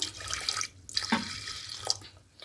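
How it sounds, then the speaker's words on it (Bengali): Water poured into a pot of mung dal with radish, turmeric and green chillies, a close splashing gush with brief pauses and a trickling tail. "এবার জলটা দিয়ে দেব।"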